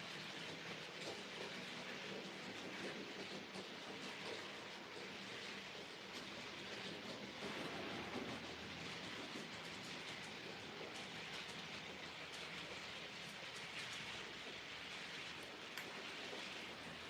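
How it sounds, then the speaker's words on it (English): Small model train of free-running wagons, including Peco Glasgow trucks, rolling along a layout track, giving a steady continuous rumble with faint clickety-clack over its whole length and no voices. "The other wagons in that little train are nicely free running."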